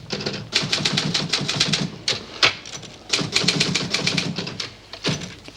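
Rapid clacking keystrokes from a typewriter come in quick, uneven bursts with brief pauses, close and fairly loud, with no talking.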